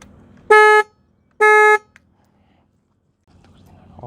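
Horn of a modified Harley Davidson Fortyeight motorcycle, two short loud honks in a row, followed by quiet.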